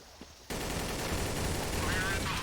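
An AK rifle in Counter-Strike: Source opens up abruptly into a dense, continuous stream of rapid automatic shots that stays loud to the end, with a faint voice underneath.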